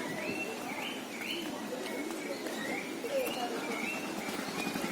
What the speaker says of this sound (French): Ça, ce qu'on entend, ce sont les grives.